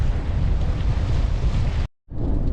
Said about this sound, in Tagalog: Yun guys, grabe ng hangin.